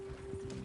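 Horses galloping in Red Dead Redemption 2, a soft rhythmic clip-clop of hooves under a steady game hum, brief and fairly quiet.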